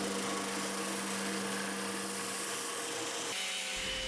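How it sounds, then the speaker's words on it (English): Steady, dense whir of a drum sander working a wooden CNC-inlaid cutting board, a continuous loud abrasive hiss that drops off near the end. "One of the final stages is the sanding process of the board."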